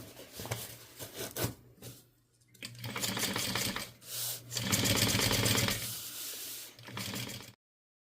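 Domestic sewing machine top stitching down an opened seam on fabric, with fast steady stitching bursts that stop and restart several times, close and fairly loud, with no talking.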